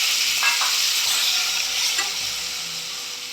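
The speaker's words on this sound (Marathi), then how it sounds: "मी फोडणीमध्ये 3 प्रकारच्या ज्या लाल, पिवळी, हिरवी सिमला मिरची कापून घेतली ती घालते आहे." Strips of red, yellow and green bell pepper sizzle and crackle steadily in hot tempering oil, with a few stirring scrapes through the frying, no talk.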